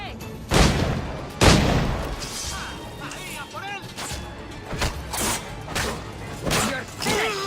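In Assassin's Creed IV: Black Flag, a shot powder keg bursts in a sharp, heavy boom, followed by another blast and scattered crashes and bangs amid battle noise, with voices talking throughout.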